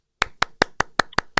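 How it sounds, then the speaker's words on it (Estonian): A single pair of hands claps seven times in an even, brisk rhythm, close and crisp against silence. "Jaa, aplaus."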